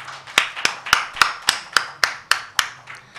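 An audience claps together in a steady, even rhythm to welcome a young tabla performer at a classical music concert. The crisp, evenly spaced claps come about three or four per second, fairly close and with no talking.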